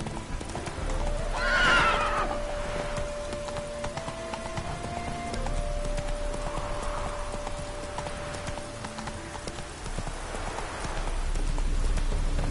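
In The Witcher 3: Wild Hunt, a horse's hooves clip-clop steadily as it moves, with a sharp neigh near the start and light ambient game sound.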